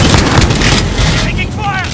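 Gunfire in the video game Call of Duty: Modern Warfare, a dense, loud stretch of shots and booming battle noise that fills the whole moment, with no clear breaks between bursts.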